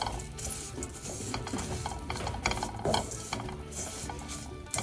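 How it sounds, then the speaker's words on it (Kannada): Beaten rice (avalakki) with ghee is stirred in a pan on the stove for Ganesha festival panchakajjaya. The scraping, clattering strokes are fairly steady and close, with a light sizzle underneath. "ಚೆನ್ನಾಗಿ ಮಿಕ್ಸ್ ಮಾಡ್ಕೊಳ್ಳೋಣ."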